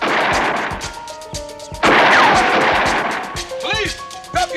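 Gunfire in a police crime drama shootout near a chemical lab, with several sharp shots and a loud crash-like burst, some ringing or ricocheting tones, and the clip ending in further shots. Voices are present in the background.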